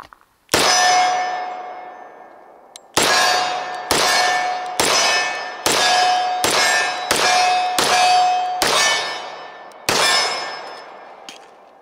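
Standard Manufacturing blued 1911 pistol firing 230 grain FMJ rounds from a Wilson Combat 10-round magazine: ten sharp, ringing shots, the first alone and the rest in a quick, slightly uneven string, each with a metallic ring and decay.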